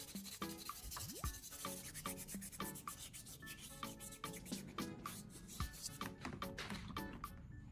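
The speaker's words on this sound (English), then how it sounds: "I'm first wet sanding the entire lever with sandpaper." An aluminum lever being wet sanded by hand with sandpaper, a quick rhythmic scratching and rubbing close up, with brief metallic clinks mixed in.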